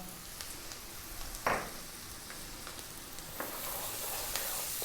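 A tablespoon and a half of chopped garlic sizzles steadily in a hot pan over high heat for a chicken bean sprout stir-fry, with a brief louder hiss as it hits the oil and faint ticks of stirring.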